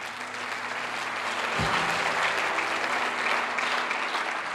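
A church congregation applauds steadily throughout, a dense, sustained wash of clapping with no clear cheering voices standing out.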